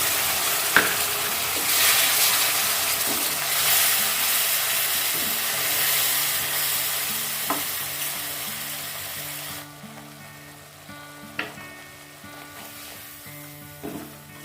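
Paste of poppy seeds, curd and green chillies sizzling in a hot pan, a loud steady frying hiss that eases partway through, with scattered clinks of a spoon stirring and no voices.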